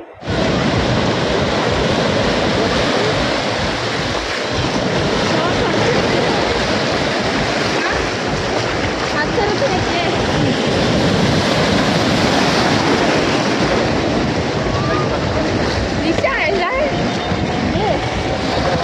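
Sea waves on a beach in Goa, a loud, steady roar of surf washing in without pause, dense and close, with no clear voices standing out above the water.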